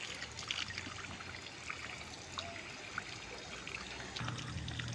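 Water runs over freshly picked warrigal greens (New Zealand spinach) outdoors to rinse off sand. A faint, steady trickle carries small splashes and drips.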